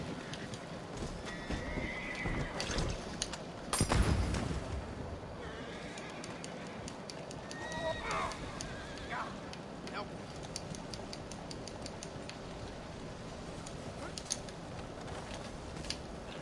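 Horse hooves clip-clopping and a whinnying neigh in the Red Dead Redemption 2 video game, moderately loud among game ambience and scattered clatter, with a player talking at times.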